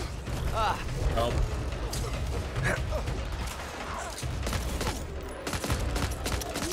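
Gunfire fills a zombie shooter game, Back 4 Blood, with bursts of rapid shots and clanking mechanical noises over several seconds while players talk over it.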